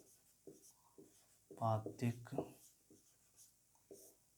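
Pen or pencil scratches across paper as a solution to a class 8 linear-equations problem is rewritten after erasing, with short strokes mixed into a man's close speech.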